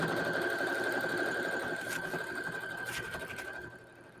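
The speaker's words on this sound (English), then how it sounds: "I backstitch a little because these are some tough bags" A sewing machine runs steadily, stitching a seam through tough, heavy-duty tote bags, a continuous close mechanical whir with a steady tone that eases off near the end.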